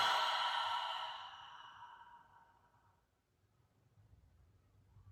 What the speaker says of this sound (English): taking a breath in through the nose and sighing it out the mouth together